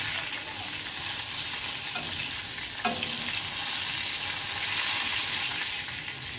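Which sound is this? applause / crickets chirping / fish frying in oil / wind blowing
fish frying in oil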